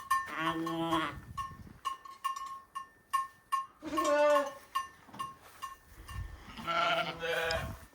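Sheep bleat loudly in three long calls while small bells clink and tinkle steadily between them, close by.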